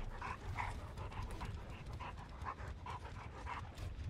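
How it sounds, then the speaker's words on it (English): A hound in Dead by Daylight pants rapidly in a steady rhythm of short breaths, close but fairly quiet, with no talking. "This dog's panting a lot."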